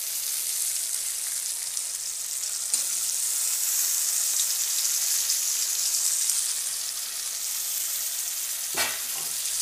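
Brinjal pieces sizzle and fry in a pan as part of a brinjal and potato curry, a steady, even hiss throughout with a short stir clatter near the end, no talking.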